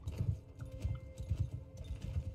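Horses' hooves clip-clop in a steady, quick rhythm in the video game Mount & Blade, fairly soft and continuous with no voices over them.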